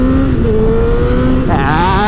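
Cruiser motorcycle engine revving hard under throttle, a loud, close, continuous growl whose pitch climbs and shifts as the throttle is cranked, with no talking.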